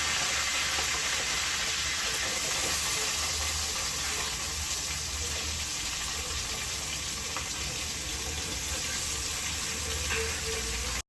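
Mustard seeds with dried chilies and curry leaves crackle and sizzle in hot oil, a steady dense hiss that runs loud and continuous throughout.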